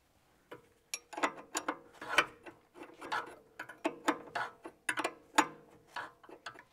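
A ratchet wrench clicks in quick repeated bursts while bolts are tightened during fitting of a 25 mm lift kit on a Volvo V90 Cross Country, crisp mechanical ticks close up with short pauses.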